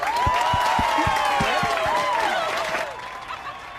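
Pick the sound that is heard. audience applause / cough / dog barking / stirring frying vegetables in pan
audience applause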